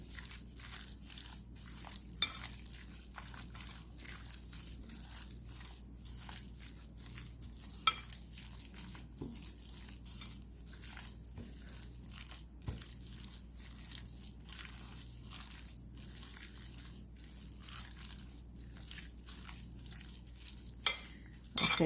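A cornstarch mixture for beef and broccoli is stirred in a bowl, producing faint, repeated soft scrapes and small clicks of the utensil at a steady, unhurried pace over a quiet room background.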